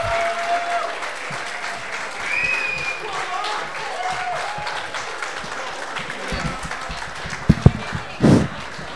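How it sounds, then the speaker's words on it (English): An audience on stage-side gives a sustained round of applause for performers at a live event, dense steady clapping throughout, with a few louder individual claps and a brief burst near the end. "could we please have a round of applause"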